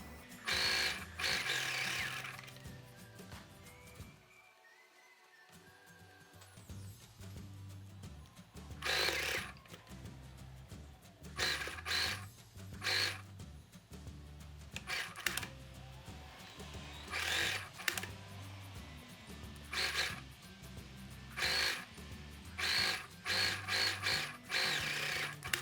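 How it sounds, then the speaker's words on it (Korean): Sewing machine stitching embroidered fabric into a small dog crop top, running in repeated bursts of rapid mechanical whirring separated by pauses, near and fairly loud with no talking. "원통형으로 봉제를 한다고 생각을 하시고 봉제를 하시면 되고"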